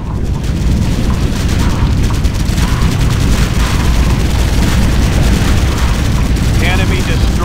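Heavy battlefield explosions in the video game Ground Control II: Operation Exodus. Loud, dense booms and artillery-like blasts pound continuously under heavy fire.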